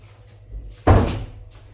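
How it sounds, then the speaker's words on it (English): A household door is pushed shut with a single firm thud, heard up close after quiet room tone, the sound decaying over about a second. "Hang on, I'm just going to shut the door"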